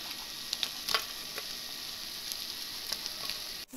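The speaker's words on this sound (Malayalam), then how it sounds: "ഇതിപ്പോൾ നന്നായി ഫ്രൈ ആയി ക്രിസ്പി ആയി വന്നിട്ടുണ്ട്" Balls of dosa batter fry in hot oil for homemade honey candy, giving a steady crackling sizzle with a few sharper pops and spits throughout, heard alone without voices.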